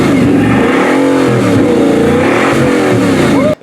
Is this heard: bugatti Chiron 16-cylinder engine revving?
yes